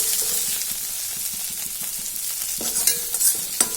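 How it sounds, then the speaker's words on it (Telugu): Chopped tomatoes fry uncovered in a pan with a constant close hiss and sizzle, while a spoon stirs and scrapes now and then near the end. "మనం ఇట్లా మూత పెట్టకుండా కూడా కొంచెం ఫ్రై చేసుకుందాము"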